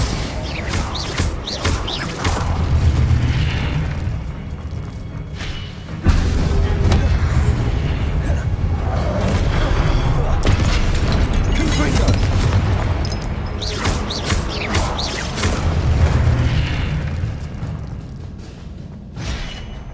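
Heavy booming blasts from Confringo fire spells in the Hogwarts Legacy video game, loud and repeated in clusters across the stretch, mixed with busy game sound and some voice.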